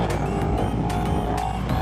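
A KTM 1290 motorcycle with a Spark exhaust runs on the road, its engine a steady, loud low-end drone with wind roar and faint passing surges, no voices heard.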